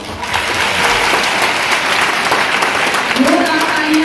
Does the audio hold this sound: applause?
yes